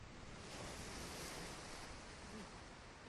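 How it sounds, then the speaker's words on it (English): Water washes over the logo in the BioShock video game as a dense, steady rushing wash that sounds like surf, loud and continuous for about three seconds. "I do like the water washing over the BioShock logo."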